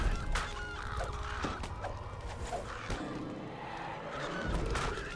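Harsh cawing and honking bird calls in the video game Dragon Disciple, several cries in close succession over a busy game soundscape.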